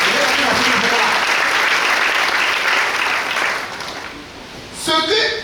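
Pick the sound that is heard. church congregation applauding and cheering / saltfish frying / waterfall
church congregation applauding and cheering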